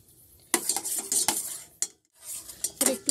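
A spoon stirs milk tea in a pot, scraping and clinking against the metal in short uneven bursts separated by brief quiet gaps.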